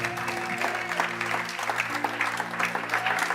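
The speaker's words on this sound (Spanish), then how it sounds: "Y ojo, porque ese aplauso es para el Señor." Church congregation applauding during a Spanish-language sermon, a steady moderate clapping from a crowd with a preacher's voice faintly present underneath.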